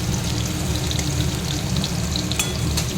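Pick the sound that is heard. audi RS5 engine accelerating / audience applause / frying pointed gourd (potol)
frying pointed gourd (potol)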